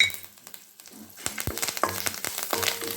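Curry leaves dropped into hot oil already seasoned with turmeric and asafoetida, crackling and sizzling sharply in a burst of pops and spits after a quieter simmer.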